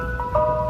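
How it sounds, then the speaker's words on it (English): An ice cream truck plays its jingle, a short run of bright, sustained electronic tones over a low rumbling motor hum, steady and moderately loud with no talking. "he hears that ice cream truck jingle"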